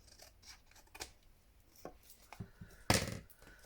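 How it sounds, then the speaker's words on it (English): Scissors cut paper for craft ephemera in a series of quiet, irregular snips and rubs, ending with one louder, sharper cut near the end. "Just unstick my scissors because they're all a bit sticky."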